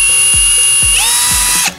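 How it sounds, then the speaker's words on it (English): A power drill spins up with a high steady whine while a small bit starts a pilot hole in a plastic bottle, a few short ratcheting clicks underneath, close and loud for under two seconds. "I got my drill and I got my smaller drill bit, and I'm gonna start a pilot hole right in the"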